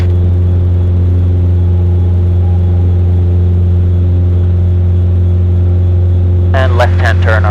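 A Mooney M20J-201 engine drones steadily at full power while climbing after takeoff, a loud constant hum heard from inside the cockpit, with a voice speaking briefly near the end.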